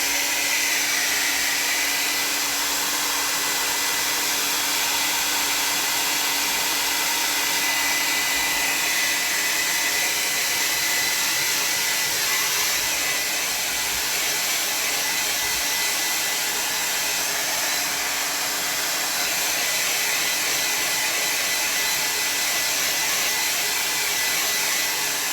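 A hair dryer runs loudly and without a break as it dries a wet gouache painting, a steady, close whooshing drone with no speech.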